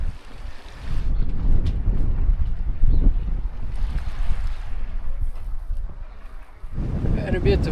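Strong wind on the Mediterranean coast buffets the microphone in heavy low rumbling gusts, steady for most of the stretch with a brief lull and then a fresh blast.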